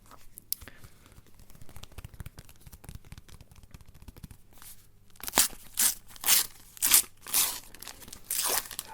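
Panini sticker packets for the 2026 FIFA World Cup are torn open up close, with soft crinkling first and then a run of sharp, loud paper rips at a steady pace.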